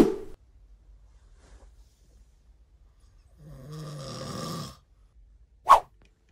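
A person snoring loudly: one long rasping snore, then a sharp snort near the end, with quiet pauses in between.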